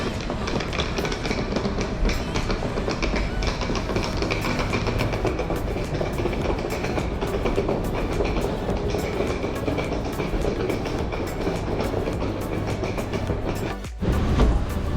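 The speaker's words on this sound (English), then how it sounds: "Here is a Oslo Central train station." A train rumbling along the tracks at Oslo Central Station with a rhythmic clickety-clack, loud and continuous, and a brief jolt near the end.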